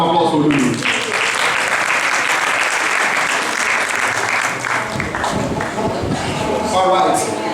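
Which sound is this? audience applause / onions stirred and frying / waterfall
audience applause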